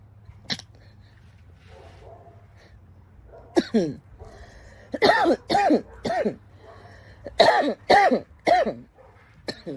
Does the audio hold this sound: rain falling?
no